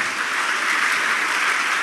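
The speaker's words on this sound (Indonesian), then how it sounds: "Beri tepuk tangan yang meriah buat Tuhan." A church congregation applauds loudly in a dense, continuous wash of clapping that holds steady from start to finish with no break.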